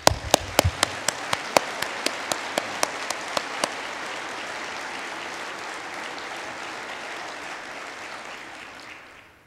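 A conference audience of wealth managers applauds in a large hall, steady dense clapping with a few sharp nearby claps at the start, holding for several seconds before tapering off.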